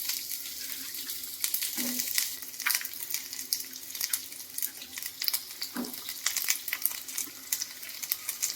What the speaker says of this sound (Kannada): ಟೊಮೊಟೊ, ಈರುಳ್ಳಿ, ಬೆಳ್ಳುಳ್ಳಿ, ಶುಂಠಿನ ಸ್ವಲ್ಪ ಎಣ್ಣೆ ಹಾಕ್ಕೊಂಡು ಫ್ರೈ ಮಾಡ್ಕೊತೀನಿ